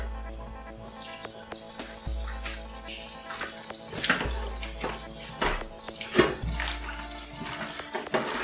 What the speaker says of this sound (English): Alright, so we're going to wash our sorrel.